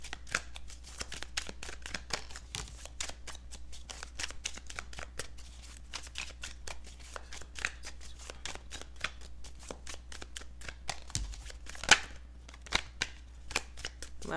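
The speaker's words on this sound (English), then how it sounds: "Last shuffle." Tarot cards are shuffled by hand in a rapid run of crisp, papery riffles and flicks that continue for the full length, close and moderately quiet, with a low steady hum underneath.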